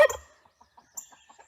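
A broody hen on a farm gives one louder call, then a string of soft, evenly spaced low clucks, close by and alone.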